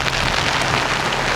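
Dense, steady rain pours down in Old Harbour Bay, Jamaica, during Hurricane Melissa flooding, a loud continuous hiss of drops hitting surfaces close by, with no voices.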